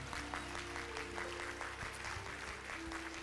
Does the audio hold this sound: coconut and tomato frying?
no